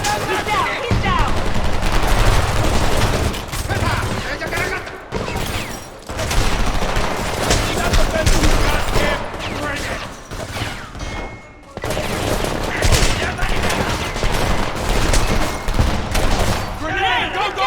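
Sustained automatic gunfire in the video game Homefront, loud and continuous with rapid bursts and brief gaps, heavy and close throughout the whole stretch, with shouted voices mixed into the din.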